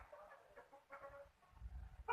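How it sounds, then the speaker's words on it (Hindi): A just-caught hen on a poultry farm clucks several times in short, close, soft bursts, with some low handling noise between the calls and no voices. "मैंने दूसरी मुर्गी पकड़ ली है"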